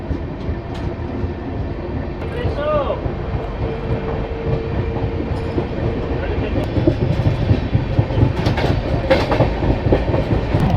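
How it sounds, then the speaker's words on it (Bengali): Ranchi-Howrah Shatabdi Express running after leaving Durgapur, heard from inside as a steady rumble with rhythmic clickety-clack of wheels, faint background voices and a brief squeal. "দুর্গাপুর থেকে ট্রেন ছেড়ে দিয়েছে আমাদের ট্রেন এবার একেবারে হাওড়া গিয়ে দাঁড়াবে"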